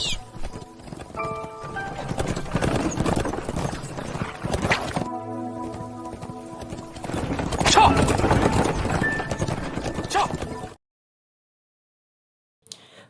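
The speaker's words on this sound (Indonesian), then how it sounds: "ada kereta kuda sedang meluncur dengan cepat" A horse-drawn carriage speeds along, its hooves clattering in a dense, fast rhythm over a sustained tonal backdrop, loud and continuous before cutting off abruptly into near silence.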